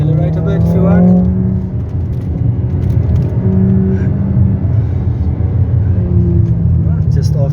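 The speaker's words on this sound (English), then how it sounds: "Follow through with that speed and accelerate hard." Car accelerating during a Continental tyre launch test drive, its engine and road noise droning loudly and steadily inside the cabin with a couple of rising pitch sweeps, as people talk over it.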